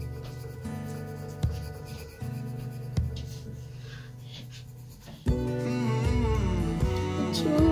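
A pencil scratches on paper in short strokes separated by brief taps and pauses, quiet and close, with a louder, denser stretch of sound toward the end.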